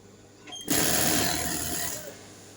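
Sewing machine stitching a baby frock starts up after a brief click and runs in a loud, steady, rapid whir for about a second and a half, then slows and stops, close to the listener.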